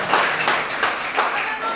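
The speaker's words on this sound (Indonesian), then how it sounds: "Berikan tepuk tangan bagi Tuhan." A church congregation applauds during a Sunday worship service with Holy Communion, a brief burst of dense clapping with voices mingled in.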